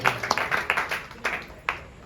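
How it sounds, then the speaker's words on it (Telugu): A church congregation claps at an inauguration service in Nidubrolu, a loose scatter of roughly a dozen uneven handclaps over two seconds, fairly close and moderately loud, with no speech. "చప్పట్లు కొట్టి ప్రభుని చప్పట్లు కొట్టి"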